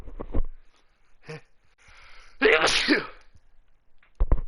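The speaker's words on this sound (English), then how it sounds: "That was a sneeze." A sharp, loud sneeze bursts out in the Phoenix Wright game after a few brief breathy sounds, with short voice fragments before and after.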